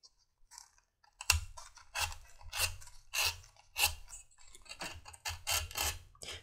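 Scrap leather hatband end being trimmed, with a run of close, crisp snipping and rasping cuts in irregular bursts and no talking.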